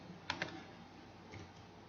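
A couple of quick, close keystrokes on a computer keyboard as a message is typed, faint clicks over a steady background hiss, then a softer tap or two.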